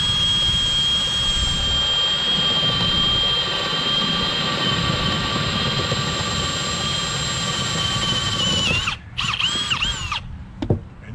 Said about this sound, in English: So we're gonna take that 5/8 bit, we're gonna go up about a 1 inch to 1 1/4 an angle.